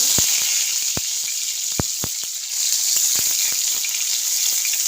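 Chopped onion sizzles loudly in hot oil with cumin seeds, a steady close frying hiss broken by sharp popping crackles, alone without voices.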